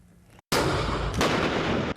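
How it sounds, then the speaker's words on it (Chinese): Tank cannon fire during army battalion training: two heavy, booming blasts about half a second apart. The first erupts abruptly out of silence, and the roar of the second rolls on loudly with a long rumbling tail. "战车的炮声轰轰叫"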